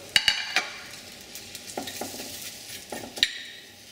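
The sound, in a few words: sliced onion strips softening in pan for kimchi stew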